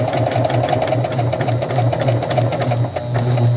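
A Juki HZL-K85 sewing machine stitches steadily, its fast even mechanical whirr and needle clatter running close and loud throughout without pause.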